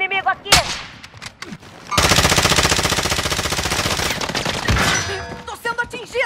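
Close, loud sustained automatic fire in Call of Duty: Modern Warfare, with a single sharp shot before a long rapid burst of several seconds, followed by scattered clanks and short game sounds.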